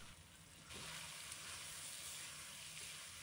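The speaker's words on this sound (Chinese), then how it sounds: "然后开大火继续翻炒" Shredded potatoes stir-fried in a wok over high heat give a steady, close sizzling hiss that swells louder after a brief quieter start and then holds evenly throughout, with no talking.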